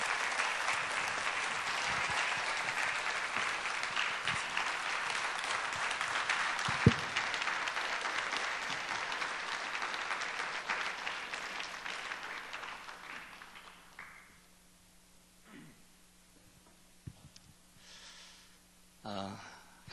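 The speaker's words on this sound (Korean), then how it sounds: "우리 김신일 목사님 나오실 때 박수로 우리 환영해 주시겠습니다" A church audience at a Wednesday service claps to welcome Pastor Kim Sin-il to the pulpit, the dense applause holding steady and then thinning out toward the end, giving way to a few scattered sounds and near silence.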